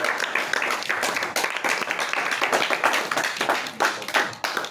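A church congregation claps steadily together at a praise and thanksgiving service, the dense rhythmic hand claps filling the room loudly and continuously without any talking.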